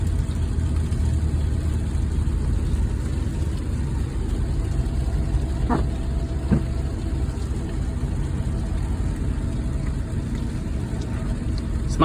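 A 2002 Acura TL Type-S engine hums steadily while driving, a constant low drone with road noise heard from inside the cabin, with two brief clicks partway through and no talking.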